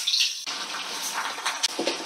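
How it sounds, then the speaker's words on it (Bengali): Ridge gourd pieces tipped into hot oil with dried chili and panch phoron, a steady close sizzle and hiss of frying that swells after the vegetables land, with brief clatters near the end. "এইবার আমি টুকরো করে রাখা ঝিঙেগুলোকে দেব এবং এগুলোকে ভালো করে ভেজে নেব।"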